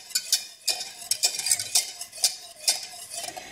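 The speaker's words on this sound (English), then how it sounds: "Now stir this until the mixture thickens, and this will take a couple of minutes on medium-high heat" A utensil scrapes and clinks in quick, uneven strokes against a pan while white sauce for nacho cheese is stirred over medium-high heat, with no talking.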